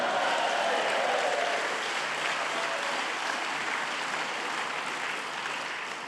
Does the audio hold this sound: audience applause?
yes